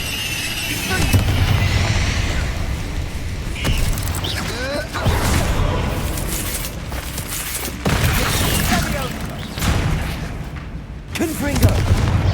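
Repeated Confringo spell blasts in a Harry Potter video game on hard difficulty, a string of booming, crackling bursts about every few seconds, loud and close amid constant combat noise.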